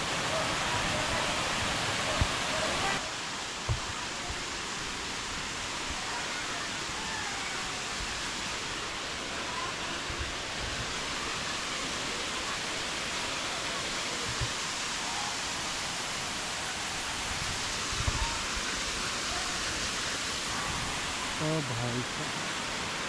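A village waterfall roars in a steady, dense rush of falling water, loud and close throughout with no letup, a few faint voices barely surfacing beneath it.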